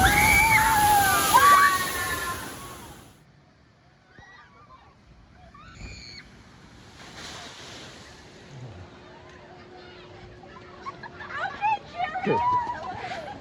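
Water from a log flume splashdown crashing over a bridge near Congo Falls at an amusement park: a loud rushing surge that fades into softer spattering and sloshing, with people talking and exclaiming throughout.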